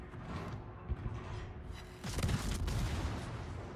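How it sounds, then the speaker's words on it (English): Battleship turret guns ripple firing in World of Warships, a run of deep booming shots with a heavier cluster of blasts midway, loud and close, rumbling on between the shots. "because I'm ripple firing, right? And it's got 4 turrets"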